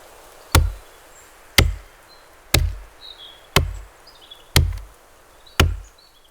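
Axe chopping a tree in a survival game, mixed with forest reverberation: six heavy, evenly spaced wooden thwacks about a second apart, each with a short reverberant tail over a faint outdoor background.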